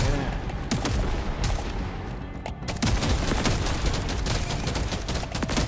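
Enemies shooting in the Deep Rock Galactic video game make a loud, continuous fusillade of rapid gunfire with dense overlapping bursts, growing heavier midway and carrying on without pause.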